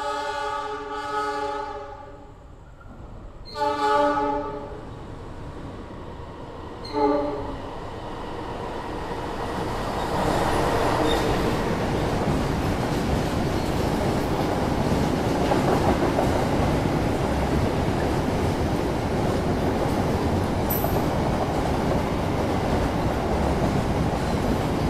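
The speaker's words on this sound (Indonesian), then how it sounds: "Yang baru saja melintas adalah kereta angkutan minyak" An oil tanker freight train rolls past at night, with clickety-clack bursts of wheels over rail joints near the start. The rumble then swells into a loud, continuous roar of passing wagons that lasts to the end.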